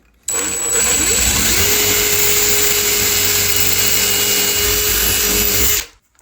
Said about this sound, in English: now we're just going to drill a nice straight hole